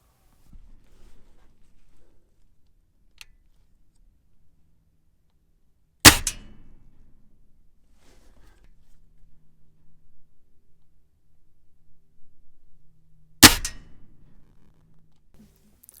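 A Feinwerkbau FWB Sport .177 break-barrel air rifle fires two sharp, loud, close shots several seconds apart, with quiet handling noises between them.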